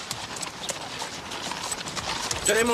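A horse's hooves clip-clop steadily at close range, with voices talking over them, in a 1991 Sherlock Holmes period drama.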